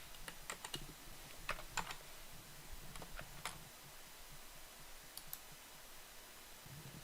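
Computer keyboard keys pressed during React.js coding, including Ctrl+C and Ctrl+V copy and paste, a scatter of sharp close clicks in small bursts with pauses between them.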